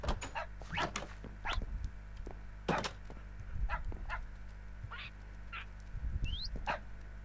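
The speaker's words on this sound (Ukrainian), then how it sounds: "Як ви чуєте, там вже гавкають і папушки співають." Small dogs yip and bark in short, scattered bursts at close range, with a brief chirp near the end over a low hum.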